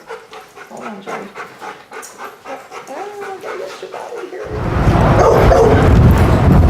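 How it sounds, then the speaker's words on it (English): A dog at a fence line pants in quick, regular rhythm with a few soft yips, close by, before a loud, steady rush of broadband noise takes over. "There's a dog at a fence line. He's out of control and doesn't know what to do."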